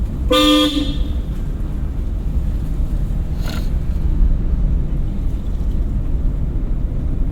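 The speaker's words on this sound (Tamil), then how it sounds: "கட்டோடு வருது, ஹார்ன் அடிக்கணும்." A car horn gives one short, loud honk near the start, then a fainter second toot, over steady road and engine rumble during a driving lesson.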